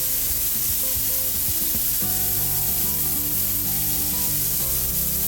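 Olive oil sizzling in a Dutch oven over high heat, a constant hissing sizzle heard alongside steady background music, with no talking.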